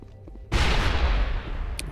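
A grenade going off in Mass Effect: a sudden loud booming blast that rumbles for over a second, with a quiet lead-in before it.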